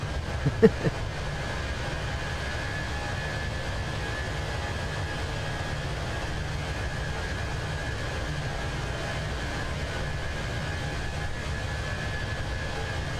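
A steady, loud airliner engine roar from Microsoft Flight Simulator 2024, a continuous broadband drone holding level throughout, with a faint brief click near the start and no talk.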